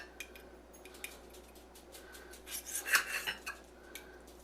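A knife slices through hot cooked sausage on a board, soft taps and light scraping close by, building to a few firmer cuts near the end with quiet clinks.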